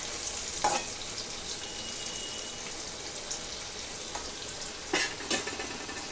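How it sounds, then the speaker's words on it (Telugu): Raw bitter gourd pieces fry in a pan with a steady broadband sizzle, punctuated by a few louder scrapes and stirs as the slices are turned over. "ముక్క అనేది 2 వైపులా తిప్పుకుంటూ వేయించుకోవాలి"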